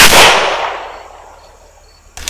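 A single loud, close gunshot from a .40 caliber handgun fired outdoors, a sharp crack that decays over about two seconds, followed by a faint click at the end.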